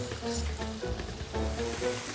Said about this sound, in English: We want to keep frying it to bring the sweetness out in the onions.